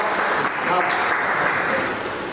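Loud, dense applause from an audience at a public gathering, a continuous near wash of clapping filling the whole moment without letting up.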